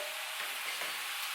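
Cabbage fries in a pan with a steady, loud sizzle that runs unbroken from start to end, a brief stirring scrape partway through, and no voices.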